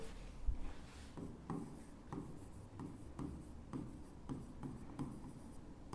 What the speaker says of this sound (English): I will start writing all the points from my notebook